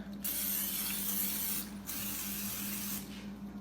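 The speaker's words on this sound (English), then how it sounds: "I'm going to spray my waffle maker." Cooking spray hissing onto a shallow waffle maker in a kitchen, with about three short bursts separated by brief pauses, quiet and close with no talking.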